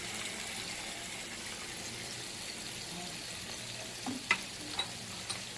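Quiet, steady sizzle of spices such as turmeric and coriander powder frying in a pan for club kachori filling, a soft continuous hiss with a few light scraping knocks near the end.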